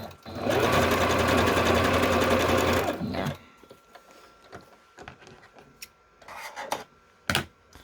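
A sewing machine zigzag stitches a fabric flower onto fabric for about three seconds, a busy close mechanical whir, then stops and leaves quieter rustling and handling of the fabric.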